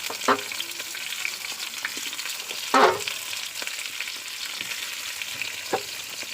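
Vegetables sizzle steadily in a clay pot, with a few louder scrapes and bursts of spattering as they are stirred; no talking.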